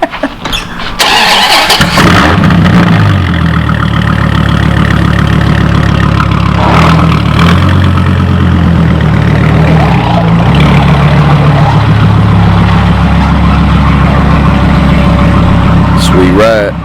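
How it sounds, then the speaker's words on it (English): A Dodge Viper, said to make 1200 horsepower, fires up from cold with a sharp starter crank and a loud roar, then settles into a deep, rumbling, loping idle close by, with voices talking over it. "Cold start up on the Viper, guys."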